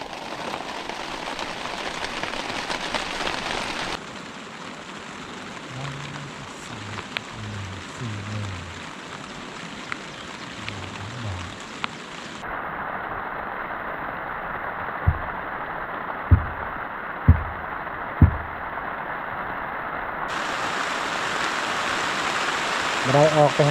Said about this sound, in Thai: เพราะว่าแห่ทรายมันเปียกฝนตกบ่เซาเลย